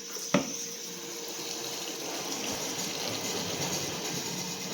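Water running from a tap into containers, a steady close gushing stream after a sharp knock at the start, with no talking.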